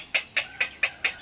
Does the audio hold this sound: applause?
no